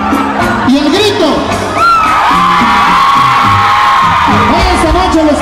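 A loud crowd of girls shouting and cheering at a banda concert, a dense sustained roar of high voices with whoops, continuing through the whole stretch.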